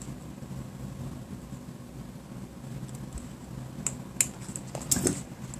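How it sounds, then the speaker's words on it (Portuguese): Small scissors snip through a zipper's teeth while preparing it for sewing: low background hum with a few sharp, close clicks and snips near the end. "Com essa tesoura menor, eu consigo entrar bem no meio de um dentinho"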